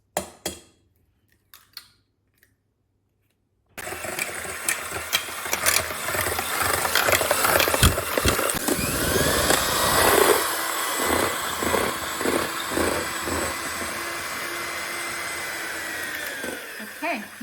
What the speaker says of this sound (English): We're going to beat up 5 eggs.